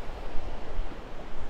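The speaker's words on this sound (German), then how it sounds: "ganz kleine Wellen" Small, gentle waves wash in at a beach on a slightly breezy day, a steady soft surf hiss mixed with light wind noise and no talking.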